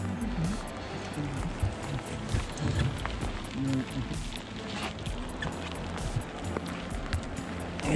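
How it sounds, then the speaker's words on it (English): Early-morning spring rain falling on the Mississippi River during walleye fishing from a boat. A dense, continuous patter of drops with low rumbling underneath holds steady throughout. "It's raining."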